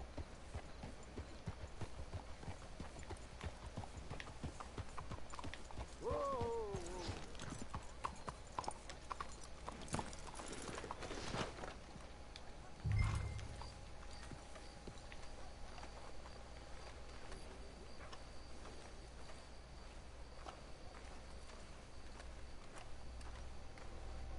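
Horse hooves clip-clop steadily at a walking pace in the video game Red Dead Redemption 2, over a quiet outdoor background, with a brief low thump partway through.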